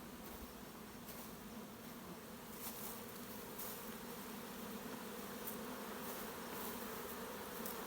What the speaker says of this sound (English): That is either a swarm just starting to get ready to head out, or that's an orientation flight, but I would put my money on swarm.